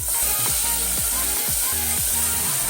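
Toor and masoor dal tipped into hot fried masala in a pan, giving a loud steady sizzle with several sharp stirring scrapes. No voices.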